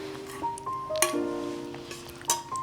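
Glass clinks with bright, ringing pings a few times as a glass of water is set down and served in a home, short taps spaced apart over low room noise.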